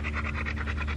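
A dog pants heavily while being brushed, a close, rapid, rhythmic breathing that fills the short clip.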